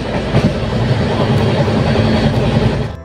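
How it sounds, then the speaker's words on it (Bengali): A passenger train runs past Durgapur and Asansol toward Prayagraj, heard from inside a crowded general compartment as a loud, steady rumble with rhythmic wheel clatter on the rails throughout. "দুর্গাপুর আসানসোল পেরিয়ে ট্রেন ছুটতে থাকলো গন্তব্যের দিকে"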